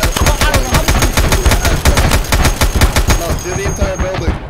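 Rapid, loud bursts of automatic gunfire in Escape From Tarkov, sprayed at a building in dense repeated volleys with almost no pause, while a player talks underneath.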